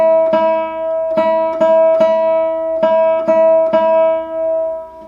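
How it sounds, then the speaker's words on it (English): A guitar's open first string plucked in a steady rhythm with alternating fingers, about nine clear, close notes at the same pitch, each ringing on into the next, with no voices. "we're going to try the rhythm on the first string"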